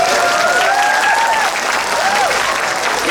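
Loud, dense crowd applause at a regional festival gathering in Blitar, a continuous roar of many hands clapping with a voice briefly rising over it.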